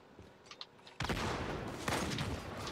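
Rapid carbine fire in Halo: The Master Chief Collection during capture-the-flag on Shrine, a sudden dense burst of repeated shots starting partway in and continuing steadily to the end, loud and close after a quiet opening.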